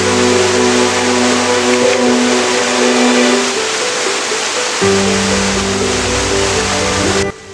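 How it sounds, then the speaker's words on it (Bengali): Water from a monsoon-season waterfall in Purulia crashing down to the lowest viewpoint, a loud, steady roar of broadband rushing noise with no talk. "এখান থেকেই জল একদম নিচে ফাইনাল ভিউ পয়েন্টে আছড়ে পড়ছে"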